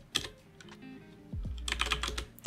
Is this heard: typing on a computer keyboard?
yes